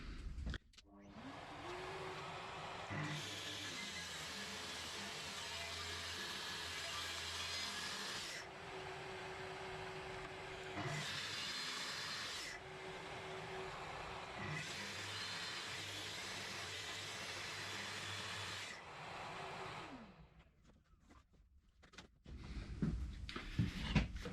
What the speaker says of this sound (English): we're going to use a track saw again to do the long line